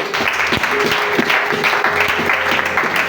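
A congregation applauding at a church youth seminar, steady, full clapping from many hands that carries on without a break for the whole stretch, with a faint sustained tone underneath.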